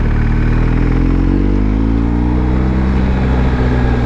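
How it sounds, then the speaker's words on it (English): A BMW R1250 GS boxer-twin motorcycle engine drones steadily at low revs, a deep continuous rumble close up, labouring while pulling uphill on a steep mountain pass in a low gear. "Just using the torque of this boxer engine to get us up here in low gear."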